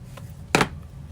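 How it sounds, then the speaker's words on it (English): Scissors make one quick snip through paper while a card box is trimmed, a short crisp burst in near-silence, with a fainter hint of a cut just before it. "I think I need to trim this just a tad."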